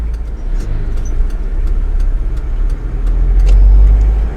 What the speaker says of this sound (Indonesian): Begitu juga dengan kondisi mobil berjalan